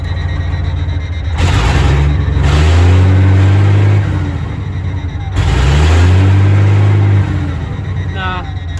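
A truck's engine, not yet fitted with a turbo, runs at idle and is revved twice, each time swelling into a deep, loud rumble before dropping back down.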